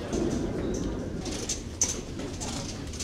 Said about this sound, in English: They're out here chilling, taking tips. Wow, that is a lot of birds.